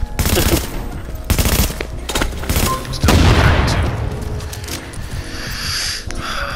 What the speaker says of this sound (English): he literally shot two bullets, I'm down at half health